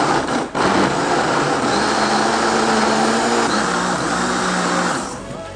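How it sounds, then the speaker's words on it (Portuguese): A blender runs continuously for about five seconds, whirring loudly and steadily as it purées drained corn into batter for a corn cake, then winds down at the end; no voices. "Tudo aqui no liquidificador. A gente vai bater por aproximadamente 2 minutos."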